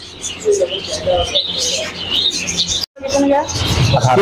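Parrots and finches chirping and calling continuously in a crowded bird shop, with blue-shouldered parrot pairs, sun conures, ringnecks and Gouldian finches among them, while someone talks over the birds.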